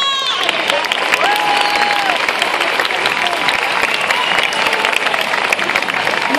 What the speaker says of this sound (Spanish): Ese es un aplauso para los chicos.